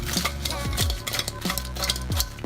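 Chicken wings are tossed with hot sauce in a bowl, giving short close scraping and clattering strokes of a spoon against the dish.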